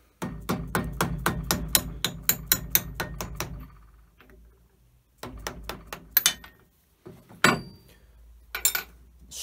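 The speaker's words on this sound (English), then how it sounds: "just should be able to just tap it out." Hammer tapping a fitted key out of a shaper-cut keyway, a rapid run of sharp metallic knocks followed by scattered single taps with short pauses between, close and fairly loud with no talking.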